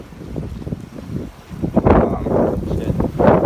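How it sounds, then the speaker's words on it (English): Strong hurricane wind batters the microphone in Miami during Hurricane Irma, rough gusts roaring and swelling louder toward the end, with no clear talk over it. "it started raining again, and it got really windy"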